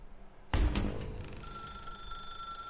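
A telephone rings suddenly after a quiet moment in the video game The Stanley Parable, a loud bell-like burst followed by a sustained tonal ring that carries on steadily to the end.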